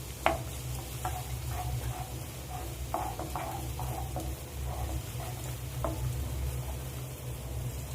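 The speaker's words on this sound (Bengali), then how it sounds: "এই 2 মিনিটের মতো আমি ভালো করে নাড়াচাড়া করে নেব।" Chopped onion frying in a pan for fried rice while being stirred, soft sizzling underneath with a series of light scraping clicks from the utensil at irregular intervals, quiet and close.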